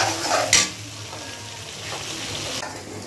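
Spice masala fries in oil in a pan, a constant sizzle with one sharp utensil clank and light stirring scrapes, close and alone.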